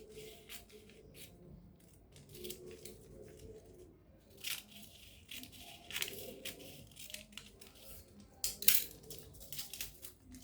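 Scissors cut a piece of Ankara fabric for a keyhole-yoke bustier gown, with soft, scattered snips and rustles of cloth, close and quiet, with one sharper crisp rustle near the end.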